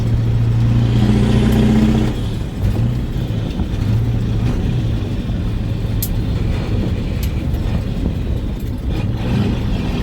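A CAT-engined truck revving while shifting a two-speed axle, a loud low engine drone that drops briefly at the throttle lift, then climbs back up, heard close from the cab.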